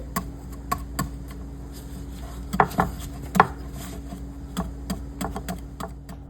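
Holes being poked into whole sweet potatoes before baking: a scattered series of sharp, quiet taps and clicks, some in quick pairs, over a low steady background hum, with no talking.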